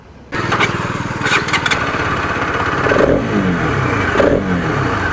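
A 2025 Bajaj Pulsar RS200 motorcycle fires up and revs close by, its engine climbing and falling through several throttle blips with a gritty, throaty note.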